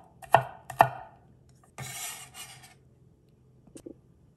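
A knife chops garlic cloves on a board with two sharp close knocks, followed by a short scraping rub and a few lighter taps, with quiet gaps between and no talking.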